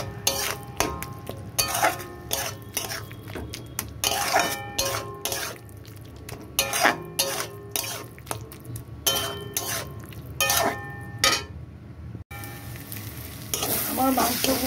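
Meat pieces fry with spices in a pan, an energetic sizzle broken by frequent rhythmic spatula scrapes and knocks against the metal, close and loud throughout.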